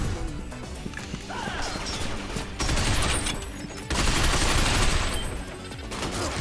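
Rapid gunfire from the sci-fi shooter game Binary Domain, dense bursts of automatic shots and crashing impacts filling the whole stretch, loudest in two heavy volleys near the middle and end.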